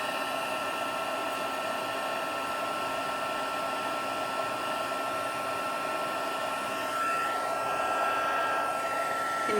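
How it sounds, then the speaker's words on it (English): Heat tool blowing hot air over a birthday card, a steady close whooshing hum like a hair dryer that runs continuously with no talking. "I'm trying to turn off my heat tool here."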